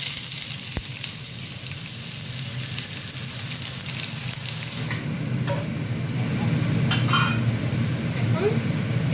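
Onion drops into hot oil in a pan and fries with a close, crackling sizzle that swells louder partway through, spattering pops scattered throughout.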